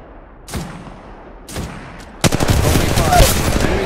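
Gunfire in the mobile shooter Apex Legends Mobile: two short isolated shots, then a sustained burst of rapid automatic fire with dense cracking and crashing, loud and close throughout.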